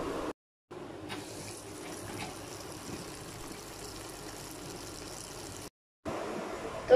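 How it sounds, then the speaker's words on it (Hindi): Mustard greens (saag) being washed under a running kitchen tap, a steady close gush and splash of water that continues almost without a break, with two short silent cuts. "तो अब हम साग को बहुत अच्छे से धोएंगे, 4-5 दफ़ा पानी चेंज करते हुए बहुत अच्छे से धोना है"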